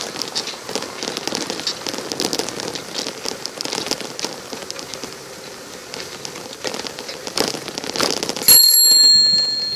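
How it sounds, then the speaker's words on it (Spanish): A bicycle bell rings repeatedly from a rider on a street trip toward a hospital in Tultitlán, State of Mexico, bright pings over rain-like road and traffic noise, with a sharper burst near the end. "Para todo toco la campana."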